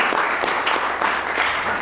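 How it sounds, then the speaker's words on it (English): A toastmasters meeting audience breaks into a round of applause, steady overlapping hand claps from a modest group, moderately loud and even throughout with no speech. "I'd like everyone to give themselves a round of applause"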